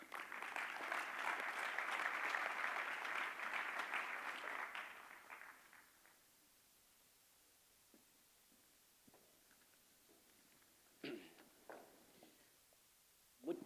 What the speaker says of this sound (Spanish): Recibimos a José Tomás con un aplauso